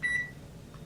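A microwave oven that has just heated soup gives two short, quiet electronic beeps back to back, then falls silent.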